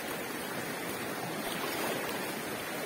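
A rapid stretch of the Rio da Caixa at Jatobá rushes over rocks in a steady, dense, moderately distant roar of flowing water.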